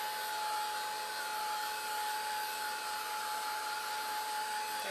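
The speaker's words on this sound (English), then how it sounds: "give it a nice dry with your heat gun" A heat gun blowing steadily while drying a handmade Christmas card, a continuous airy whoosh with a faint high whine, even and unbroken throughout, with no voices.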